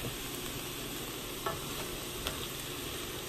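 Chopped ivy gourd (kovakkai) sautés in a pan under a dense, constant sizzle, with a couple of faint utensil taps as it is stirred.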